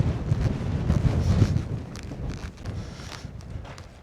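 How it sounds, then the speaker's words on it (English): Strong wind gusts across a desert valley floor, buffeting the microphone in a steady low roar that swells and eases over a few seconds. "this wind that's picked up when we've hit the bottom of the valley here is actually quite welcome"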